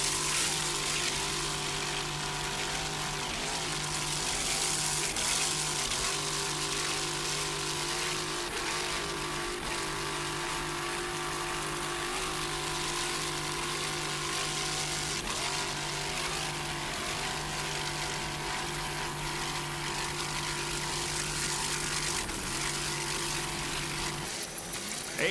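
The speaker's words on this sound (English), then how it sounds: "Listen to that engine there, that Wizard of Oz T Custom Marine inboard." A Wizard of Oz T Custom Marine inboard boat engine gives a sustained, loud, throbbing drone with steady tones, heard continuously as the boat runs along a waterfront of hotels and restaurants.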